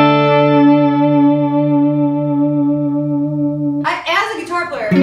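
An Eastwood Astrojet Tenor DLX electric guitar holds a single sustained note that wobbles in pitch from its vibrato bar, then breaks into a brighter, choppy strum near the end.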